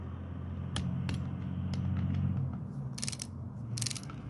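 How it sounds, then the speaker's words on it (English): Close, dry clicking of a ratchet torque wrench tightening cylinder head bolts to 20 foot-pounds, with short bursts of fast ratcheting over a low background hum, no talk. "Torque these to 20 foot-pounds."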